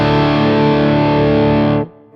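Distorted electric guitar chord rings out through a Beetronics Overhive overdrive pedal with the Hive switch down on its tighter setting, a thick, loud, steady sustained tone that cuts off abruptly near the end.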